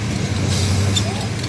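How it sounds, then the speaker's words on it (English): Mud bog truck at a logging day event spinning its tires in the mud, a loud steady engine roar with a deep low drone and scattered splatter, close and continuous, with people talking over it. "Start spinning those tires."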